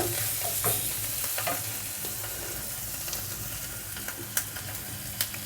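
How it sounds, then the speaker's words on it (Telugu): Garlic pieces fry in butter in a pan with a constant sizzle, spiky crackles and a few sharp pops rising near the end, with no talking. "ఇప్పుడు ఇందులోనే వెల్లిపాయ ముక్కలు కొద్దిగా బటర్లో వెల్లిపాయ ముక్కలను ఫ్రై కానిద్దాము"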